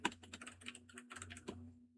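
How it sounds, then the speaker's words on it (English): Computer keyboard typing during an NBA quiz game: quick, uneven bursts of close key clicks with a few louder strokes, tapering off near the end, no talking. "I'm just typing"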